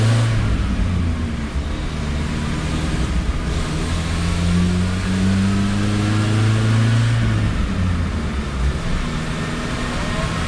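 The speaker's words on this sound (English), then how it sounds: "we're going to try another fourth gear pull" A 1986 Plymouth Voyager with a 2.2 liter engine strapped to a dyno for a fourth gear pull, a loud, steady engine drone whose pitch climbs slowly as it revs, heard up close with no talking.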